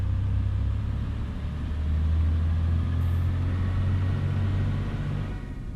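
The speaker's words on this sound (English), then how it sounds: "But no, there's a train coming" A train rumbles past in American Truck Simulator, a steady low, heavy rolling drone that holds throughout and fades slightly at the end, with no talking.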